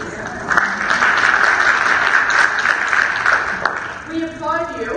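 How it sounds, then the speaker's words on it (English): Loud, sustained applause from an audience at a women's empowerment event fills the space, then tapers off as a voice begins speaking near the end. "We applaud you."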